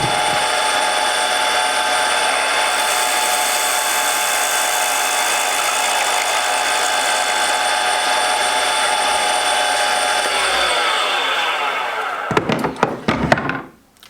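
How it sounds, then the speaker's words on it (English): A wood lathe spins a purpleheart and maple pen blank with a continuous high whine and gouge hiss, then winds down near the end with a few knocks and clatters. "I'm just going to go ahead and turn it down, and I'll come back when I get closer to the bushings."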